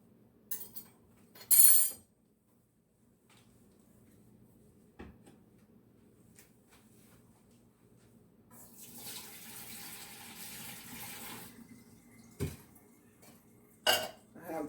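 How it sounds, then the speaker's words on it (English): Water drained off boiled, sliced yams pours and splashes in a kitchen for a few seconds in the middle, between softer clatters and a couple of sharp knocks. "So what I'm getting ready to do now is drain some of this water off"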